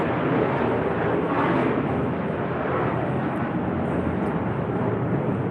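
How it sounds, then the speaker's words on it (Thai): A continuous, even roar of a military jet airplane on an exercise passing overhead, loud and sustained with no talking. "เสียงเครื่องบินพี่น้องเสียงเครื่องบิน"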